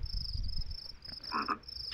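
A frog in the video game The Visitor gives a short croak near the end, over a steady high insect-like chirr and low background rumble.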